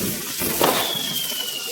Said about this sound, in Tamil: ஃபைனலாக ஒரு மயில் வெடி வச்சா, சூப்பராக இருந்துச்சு ஃப்ரெண்ட்ஸ்